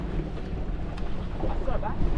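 Strong wind gusts across Lac Memphrémagog while people fish from a boat, a loud, steady roar buffeting the microphone throughout with no break.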